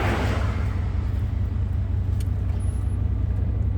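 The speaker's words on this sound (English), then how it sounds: "this is a pretty busy road" A car passes on a busy road, steady and close, with a heavy low engine rumble and a broad rush of traffic noise that stays loud throughout.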